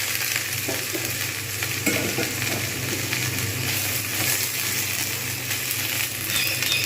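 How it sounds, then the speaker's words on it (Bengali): Bottle gourd sizzles in hot oil with dried chilli, a dense, continuous frying crackle with scraping stirs throughout. No voices are present. "ভাজা হয়ে গেছে তাই আমি এর মধ্যে লাউগুলো দিয়ে দেবো"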